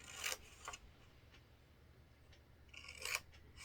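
Scissors snip through paper while a craft box is being cut out, a few quiet, sharp crisp cuts, two close together at the start and a longer one near the end, with near-silence between.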